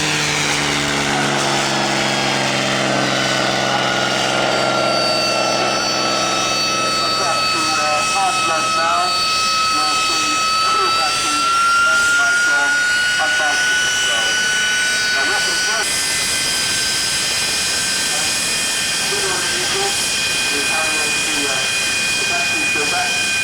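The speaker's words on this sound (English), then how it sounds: "There's the Mustang." A P-51 Mustang piston-engine propeller fighter flies past at an airshow, its loud droning engine tone sliding in pitch as it passes, sustained and steady over the full length, with no talk.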